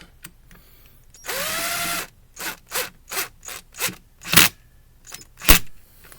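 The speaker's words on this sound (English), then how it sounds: "So we're going to go ahead and take my impact driver and we're going to screw them in." An impact driver drives screws during servicing of a new Mainstays unit: one longer close whir followed by a series of short, evenly spaced loud bursts of the driver, ending with two sharp hits.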